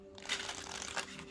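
A flexible tarot-style card deck riffles and shuffles in a soft, continuous papery flutter, quiet and close with no voices.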